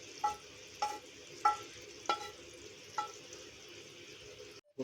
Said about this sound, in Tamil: முட்டையெல்லாம் சேர்த்துட்டு இது நல்லா ஒருக்கா கலந்து விட்டுடலாம்